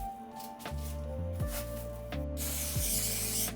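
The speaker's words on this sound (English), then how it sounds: "I'm using white spray paint and store-bought stencils to spray paint white lightning onto the canvas" White spray paint hisses from a can onto a canvas in short bursts, each separated by the rattle and click of the nozzle, with a longer, louder blast at the end.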